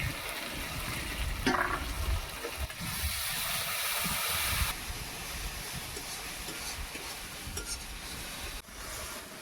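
Ground poppy seed paste going into a hot frying pan for Bengali egg posto and being stirred, with a steady hiss and a louder sizzling surge partway through, soft scraping clinks throughout.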